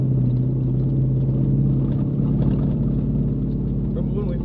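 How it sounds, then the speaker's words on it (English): A loud, steady Ducati motorcycle engine with open headers drones with a deep low-frequency rumble and rapid firing pulses, running continuously without a break. "Run open headers, which is going to make for a very loud trip home."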